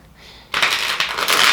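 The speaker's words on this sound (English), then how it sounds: "While I'm talking, I'm going to start shuffling." Tarot cards being shuffled by hand: a soft rustle, then a loud, close, continuous riffling and sliding of cards in several rapid bursts, heard on their own without talking.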